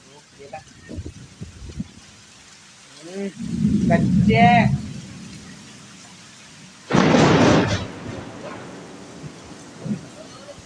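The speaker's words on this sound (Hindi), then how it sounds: "अब काफ़ी ज़ोरों की बारिश चालू हो गई है, और बादल भी बहुत ज़ोरों से गरज रहे हैं" Thunder rumbles loudly in two heavy bursts over steady heavy rain, while a person talks intermittently nearby beside a Honda Activa scooter.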